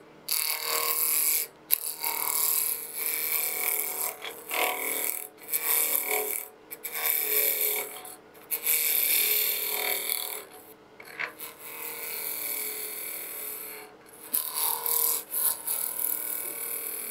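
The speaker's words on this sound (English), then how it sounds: "going to start with my spindle roughing gouge, hand underneath the tool, anchor, bevel, cut" A spindle roughing gouge cuts a spinning wood blank on a lathe, turning an egg shape, with a rough, scraping hiss that surges in repeated passes and drops away in brief gaps.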